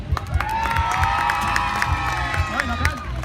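An outdoor crowd at a Canada Day celebration in a public market cheers and shouts loudly, with children's voices and clapping forming a sustained roar that rises and falls over a few seconds.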